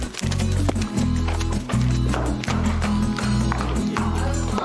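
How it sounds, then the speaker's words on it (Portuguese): A horse walks toward its stall, hooves clopping in a steady, close, heavy rhythm of repeated thuds with background stable noise and faint voices. "Mas agora ele quer ir pra baia, não quer, Ed?"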